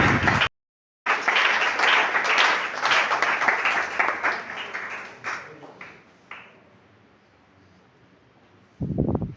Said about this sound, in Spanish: A ver ese aplauso